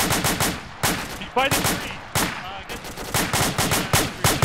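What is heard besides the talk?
gunfire in the video game Arma 2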